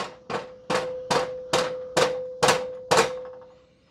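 A metal whisk is knocked against the rim of a bowl of freshly whipped cream for homemade ice cream. Seven evenly spaced, bright ringing clangs sound close and loud, each decaying before the next.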